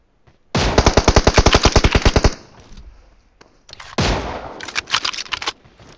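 Gunfire in a mobile shooter game played on an iPad Mini 5: a rapid burst of about fifteen evenly spaced automatic shots, a short lull, then a second flurry of loud, ragged shots.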